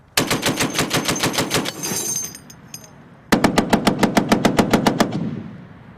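Marines in Afghanistan firing a .50 caliber machine gun in two sustained bursts of sharp, loud, evenly spaced shots, with a brief pause and shouting in between.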